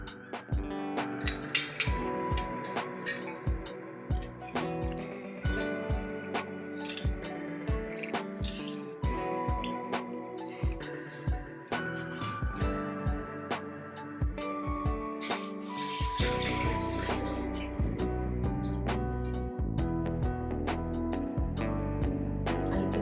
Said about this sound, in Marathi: तर आता आपण ह्या डाळी आधी स्वच्छ धुवून घेऊया.